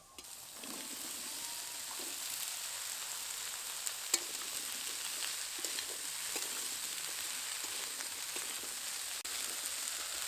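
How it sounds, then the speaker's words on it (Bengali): Pui metuli fries in a pan with potato, eggplant and radish, a continuous crackling sizzle broken by scrapes and clicks of stirring, fairly close and even throughout. "আলু মূলো বেগুন সবগুলো একটু ভাজা হয়ে এসেছে এবার এর মধ্যে পুঁই মিটুলি দিয়ে দেব"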